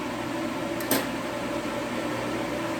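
An induction forge turned up to full power heats a one-inch-thick bar of 1045 steel, producing a steady dense electrical hum and buzz with a brief click partway through.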